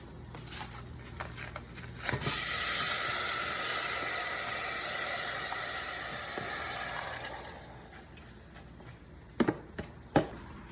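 Beans tipped into a hot cooking pot with meat, setting off a loud, steady sizzle and hiss that swells after a few light clicks, then slowly fades over several seconds, with a couple of sharp clinks near the end.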